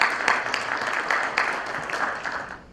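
Round of applause from an audience at a national policy forum, continuous mid-level clapping that slowly tapers off toward the end.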